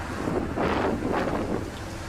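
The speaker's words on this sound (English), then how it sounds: "sounds where you guys hear the gusts" Wind gusts at an airport, a rough, rushing roar that swells and fades in two or three surges, buffeting the microphone over a low rumble.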